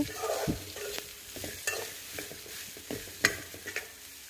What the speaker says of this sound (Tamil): நல்லா மீடியம் லோ ஃப்ளேமில் வச்சு நம்ம வதக்கிக்கோங்க